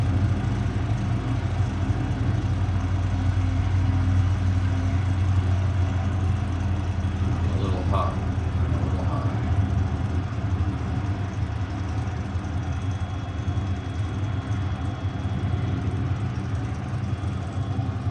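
The engine of a simulated aircraft in a home-built flight simulator hums at a steady low idle after the throttle is pulled back, a continuous droning rumble with no talking.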